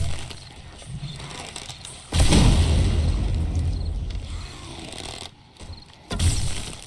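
A loud gunshot in the video game 7 Days to Die, a booming burst that lingers and fades over several seconds, followed by a shorter second blast near the end.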